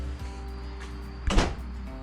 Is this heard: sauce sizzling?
no